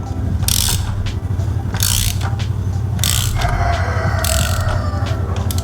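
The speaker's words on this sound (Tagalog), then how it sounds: "So, ang una nating gagawin is tatanggalin natin yung bolt." Ratchet loosening a thread-locked frame bolt on a Kawasaki Z900, heard as close, loud bursts of rapid clicking repeated several times over a steady low background noise.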